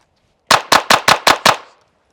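Six rapid, evenly spaced pistol shots from a Glock 44 chambered in .22LR, each a sharp, loud crack with a short decay, fired in quick succession at a target with no talking.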